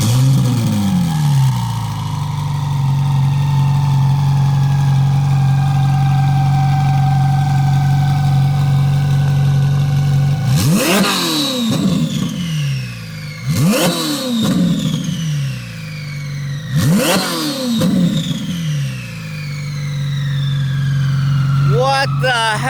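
A twin-turbo Ferrari 458 Spider idles with a low steady burble, then revs hard three times, each blip rising sharply and falling away, heard close with the top down and voices nearby.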